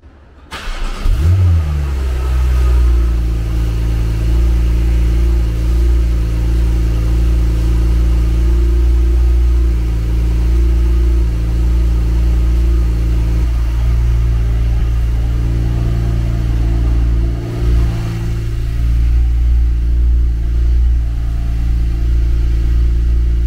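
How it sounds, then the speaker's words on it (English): Stock Porsche 911 Turbo S cold start: the starter catches, the flat-six flares loudly, then settles into a strong, steady high idle with a deep rumbling drone, close and continuous for over twenty seconds. "Gonna get a little cold start."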